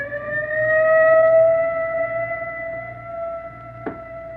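A wailing emergency siren, as from an ambulance, rises and sustains a steady tonal howl with clear harmonics, swelling and then slowly fading, heard alone with a brief sharp click near the end.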